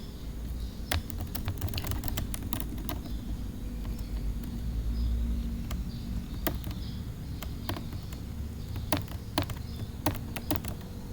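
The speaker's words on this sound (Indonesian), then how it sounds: "Misalnya saya akan mengetik panjang." Typing on a computer keyboard during a Microsoft Word exercise, irregular bursts of crisp clicking keystrokes, close and fairly quiet, with pauses between runs over a faint low hum.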